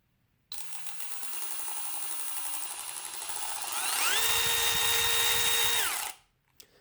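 A Milwaukee M12 FUEL 3/8-inch cordless ratchet runs close up in one continuous six-second burst, its motor whine climbing in pitch as the variable-speed trigger is squeezed harder, then cutting off abruptly.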